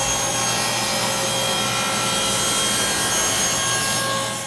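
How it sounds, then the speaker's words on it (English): A hand saw cuts steadily through a wooden piece for a small box on a stop-block setup. The rasping strokes run continuously, close and loud, with no pauses and no talking. "I just hold it securely with both hands and pass through the cut."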